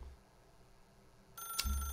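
A telephone rings in The Stanley Parable video game, one sharp electronic bell burst cutting in abruptly after a quiet stretch, loud and close.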